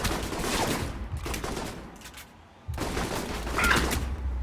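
Gunfire traded with G22 agents in the video game Alpha Protocol: loud, dense volleys of rapid shots, a brief lull near the middle, then another heavy burst, close and without speech.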